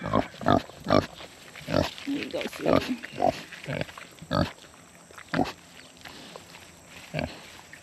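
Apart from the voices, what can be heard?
pig grunting while eating salad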